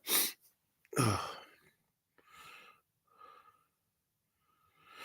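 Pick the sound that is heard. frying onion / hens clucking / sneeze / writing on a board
sneeze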